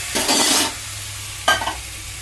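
Water poured into a pan of frying ivy gourd (kundri) bursts into a loud hiss for about half a second, then a second shorter sizzle follows after a pause, close and without talk.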